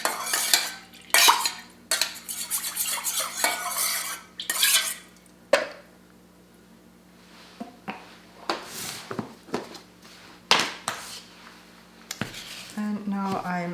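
A utensil clinks and scrapes against a bowl as sourdough starter is mixed, with quick rattling strokes at first, then scattered knocks, and a voice speaking near the end.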